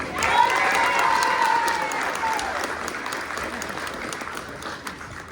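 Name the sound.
audience applause for teacher candidates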